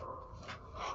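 A dog-like amalgamate creature from the game Undertale panting, one short, soft, breathy huffing sound with no talk over it.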